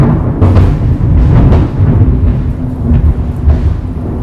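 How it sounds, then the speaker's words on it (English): Thunder from an approaching storm, a loud low rumble rolling through in several swelling waves with no talk over it. "We got a storm rolling in and that was loud."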